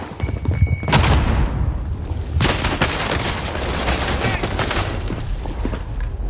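A thrown grenade blasts with a heavy, close boom in the battle-royale shooter Warzone, amid scattered gunfire, followed by a second sharp burst and a lingering rumble of combat noise.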